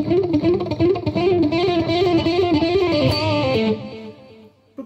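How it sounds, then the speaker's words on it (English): Distorted electric guitar with palm-muted picking plays a chugging, evenly pulsing phrase up close and loud, then lets the last notes ring out and fade. "if you added a little bit of distortion to it, it'd sound quite sweet"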